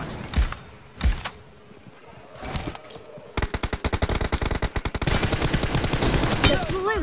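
Rapid bursts of automatic gunfire in the battle royale game BGMI, a few separate shots first and then a long dense volley, loud and close, with brief voice sounds early on.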